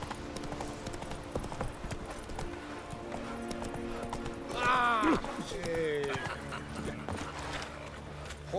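Horse hooves clip-clop steadily in The Witcher 3, with a horse whinnying midway over a low ambient game drone.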